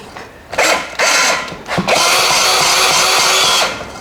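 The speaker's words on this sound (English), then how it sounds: "So I'm gonna just put my drill on it." A power drill spins a valve on a flood-damaged Mercruiser boat engine, whirring in short bursts that give way to a longer steady run, loud and close.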